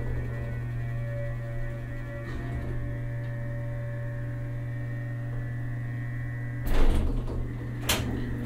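Doors on a Schindler Haughton hydraulic elevator in Toledo's Renaissance building slide shut under a constant low mechanical hum, ending in a brief rumbling thud followed by a second, smaller knock.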